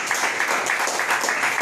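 A church congregation applauds during a sermon, with brief, dense clapping heard at moderate distance throughout.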